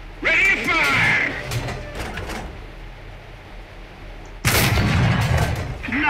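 Two loud tank cannon shots in the video game War Thunder, a sharp crack at the start and another heavy blast later, each followed by rumbling decay, with a voice heard early on.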